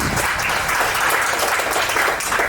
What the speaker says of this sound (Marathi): त्याच्यासाठी दोन्ही व्यक्तीसाठी जोरदार टाळ्या वाजवू.